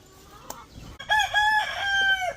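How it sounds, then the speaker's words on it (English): Free-range rooster crowing up close, a loud drawn-out cock-a-doodle-doo after a brief soft cluck, with quiet outdoor background. "this rooster keeps walking up on me"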